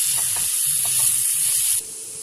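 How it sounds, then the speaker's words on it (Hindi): Garlic frying lightly in oil in a pan for beef kachori filling, a steady bright sizzle that holds close and even, then drops quieter near the end. "तो लहसुन को हल्का सा मैं फ्राई करूंगी"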